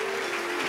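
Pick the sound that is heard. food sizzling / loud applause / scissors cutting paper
loud applause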